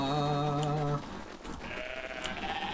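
Bighorn sheep bleat in a video game, one long, loud, steady bleat with a clear tone for about a second, followed by quieter bleating and game ambience.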